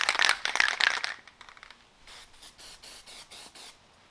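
A spray paint can of black paint sprays in a test burst, a loud hiss at first, then a run of short, fainter rhythmic puffs close by.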